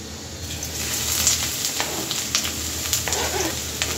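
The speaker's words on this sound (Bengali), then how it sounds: "কড়াটা বসিয়ে কিছুটা তেল দিয়েছি, তেলটা গরম হয়ে গেছে। এবার দিয়ে দেব কুচানো পেঁয়াজ।" Chopped onions dropped into hot oil in a karahi, a loud continuous sizzle and crackle right up close, steady throughout with small bursts of spattering.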